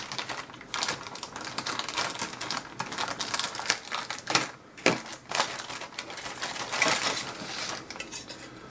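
Plastic bag from a 1/35 Meng Russian armored high-mobility vehicle (Tiger) model kit being opened: close, continuous crinkling and rustling with sharper crackles and rattles of plastic parts, no talking.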